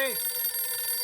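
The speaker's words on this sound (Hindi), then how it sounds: "ये किस बुर्बक का फोन टुनटुना रहा रे?" A mobile phone ringtone plays steadily at moderate loudness, a bright, repeating electronic tune that fills the whole moment without pause.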